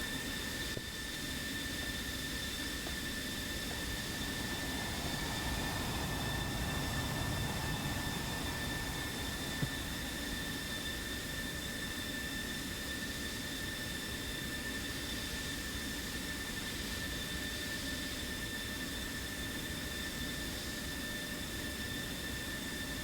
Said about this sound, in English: Whenever I go this fast taxiing in an F-16, I turn too quickly and I just about flip over.